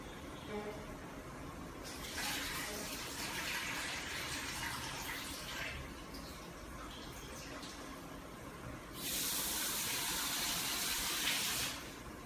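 Vegetables for an African vegetable stew (Edikaikong) are washed in water, with a steady splashing, running-water wash that swells in two louder bursts, heard fairly close with a low background hum.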